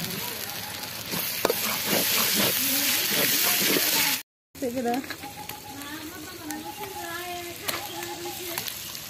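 Ginger and garlic sizzle and fry in a pan with a steady crackling hiss, broken by one brief gap, while people talk over it.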